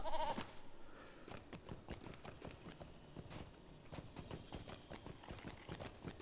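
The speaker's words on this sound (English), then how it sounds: "So let's get on our goat, Remy, and explore." A goat mount trotting in Lord of the Rings Online, with a steady run of hoof clip-clops and occasional bleats, fairly quiet and alone, with no talking.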